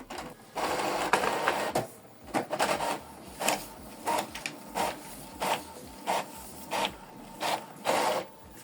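An Epson EcoTank ET-4950 printer runs a black-and-white copy job, with a steady mechanical whir and a series of regular, repeating rasping feed strokes, close and fairly loud, and no talk.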